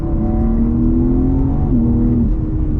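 A BMW M3 Competition G80 engine hums loudly in a steady tone, its pitch climbing then dropping sharply as the gear shifts, heard from inside the car.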